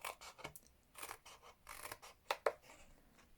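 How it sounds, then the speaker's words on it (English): Scissors cut designer series paper for a gift box in several close, crisp snips of uneven spacing, quiet and with no one talking. "cut diagonally up to that one"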